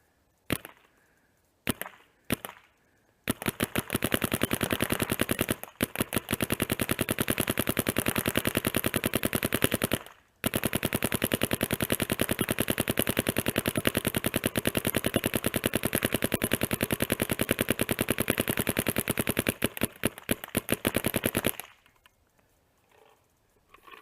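A Shocker RSX paintball marker fires a few single shots, then long, very fast unbroken strings of rapid cracks with two short breaks, loud and close, ending in quiet.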